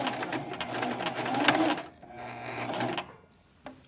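Sewing machine stitching along the free edge of an A-line skirt, a loud steady whir for about two seconds, then a second quieter run that stops, with a faint click near the end.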